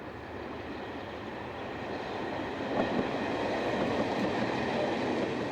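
A veteran Mark I slam-door electric train on the Southern third-rail network rumbles past at a distance, a steady low roll of wheels on track that swells slightly midway, with no voices.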